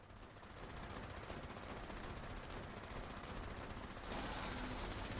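Continuous rapid automatic gunfire aimed at a Scorched Beast in Fallout 76, a dense, unbroken rattle that holds steady throughout and swells slightly louder near the end.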